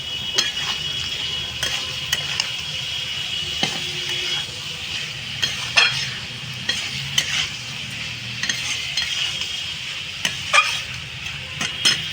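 Mushrooms frying in spiced oil in a pan hiss with a steady sizzle while a spoon stirs and scrapes the pan in repeated close clinks and taps.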